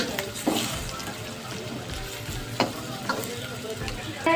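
Onions frying in oil in a kadhai while being browned for chicken korma, a soft steady sizzle punctuated by occasional scraping stirs, fairly quiet throughout.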